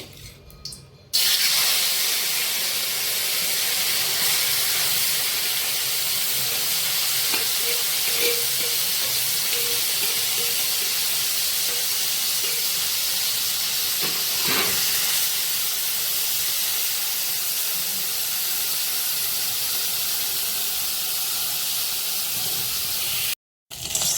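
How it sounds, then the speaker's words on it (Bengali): Kachki fish frying in hot oil in a pan, a loud steady hiss and sizzle running nearly unbroken for the whole stretch, with no talk. "এবার আমি মাছগুলো সব ভেজে নেব।"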